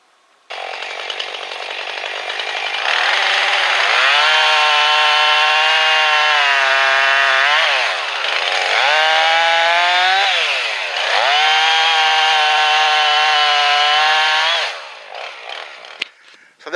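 A chainsaw cuts firewood in central Missouri: loud and close, it revs up and holds high through three long cuts with brief dips between them, then winds down to idle and stops.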